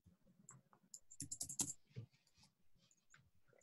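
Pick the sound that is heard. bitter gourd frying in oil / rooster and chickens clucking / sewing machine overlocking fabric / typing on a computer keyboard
typing on a computer keyboard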